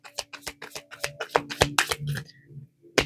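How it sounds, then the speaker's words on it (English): A deck of cards is shuffled by hand in a quick run of crisp riffling flicks that then stop, followed after a short pause by a single sharp tap, close and clear with no talking. "Whenever I shuffle the deck and I don't get a card"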